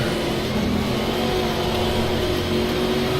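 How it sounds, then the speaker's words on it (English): A supercharged car engine in a racing game holds a steady, high mechanical whine over a constant engine drone, loud and unbroken throughout. "Really distinctive whine that supercharged engine has."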